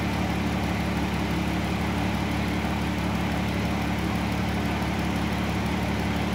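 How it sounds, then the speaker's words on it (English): Steady engine hum from a 2012 Chrysler Town & Country idling with its A/C compressor engaged, a continuous even drone with no breaks or voices. "Compressor's been running the entire time."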